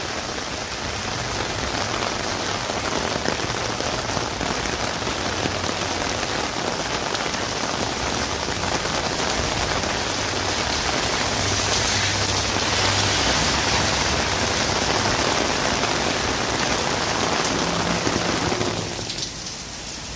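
Heavy rain pours steadily over a downtown street, a dense, close, continuous hiss and patter on hard surfaces that holds loud and unbroken for the whole stretch, with no voices.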